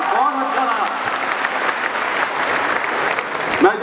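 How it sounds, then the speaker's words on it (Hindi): Loud, dense applause from a crowd at a Rajasthan Day public gathering, continuous and steady throughout, with some cheering voices mixed in. "एक बार जोरदार ताली आप सब अपने लिए बजाइए"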